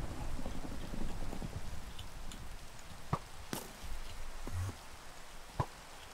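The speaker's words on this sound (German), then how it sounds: "Es verbreitet sich aber nicht und weil es regnet," Minecraft rain pours in a constant patter of drops on surfaces, joined by a few sharp clicks and thumps from the game, with no voices.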